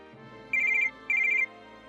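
A telephone rings with two short bursts of rapid electronic trilling, clear and moderately loud over a faint background.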